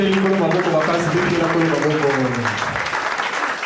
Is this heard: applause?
yes